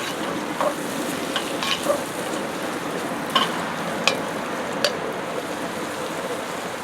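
Red onions and garlic sauté in a pan for a halibut fish stew, a steady close sizzle broken by several brief scrapes and taps of a utensil, with no talking.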